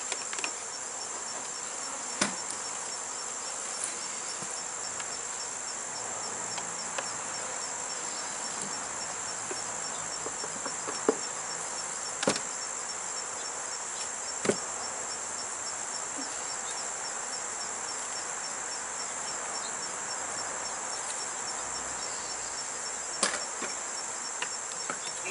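Agitated honeybees hum around an opened hive, a dense steady drone with a few sharp clicks and bumps over it, no talking.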